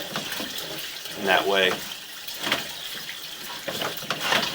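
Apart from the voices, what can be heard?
water running during flushing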